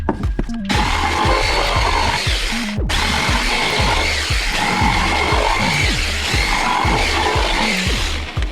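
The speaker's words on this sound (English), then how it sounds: "use the jigsaw to trim the edges here to make sanding easier" A jigsaw cuts steadily and loudly through wood, trimming edges, its blade chattering in a fast, rhythmic buzz with one brief pause.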